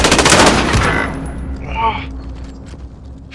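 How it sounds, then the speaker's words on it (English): Bursts of rapid automatic gunfire in Call of Duty: Modern Warfare, loud and close at first, then trailing off into quieter distant shots with a brief voice in between. "Taking fire!"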